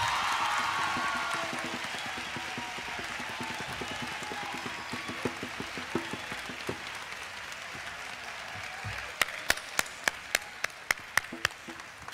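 Convocation ceremony audience of the African American Academic Network gives sustained applause, a dense wash of clapping that slowly thins, leaving a few loud, distinct claps near the end.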